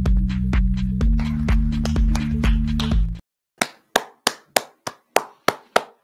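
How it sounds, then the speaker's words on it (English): After a few seconds of loud beat-driven music cuts off, a lone person claps about eight times, each crisp slap evenly spaced and close in the quiet. "I'm always the only one clapping."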